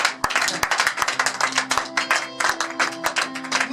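A church congregation claps together in a lively, rhythmic beat, sharp hand strikes repeating steadily over a backdrop of singing or sustained tones, close and loud throughout.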